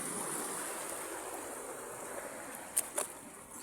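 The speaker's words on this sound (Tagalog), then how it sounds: "yung alon malalakas" Strong ocean waves wash onto a beach shore in a steady, broad rush that stays loud and continuous, with a couple of brief splashy bursts near the end and no talking.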